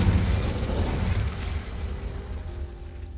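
Incendio and Confringo spells going off in Hogwarts Legacy, a heavy low rumbling burst that sustains and slowly decays over about three seconds.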